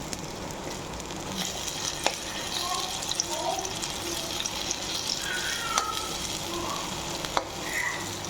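Bottle gourd slices fry over a full flame after being flipped in the pan, with a dense, continuous sizzle and crackle and a few sharp clicks and scrapes.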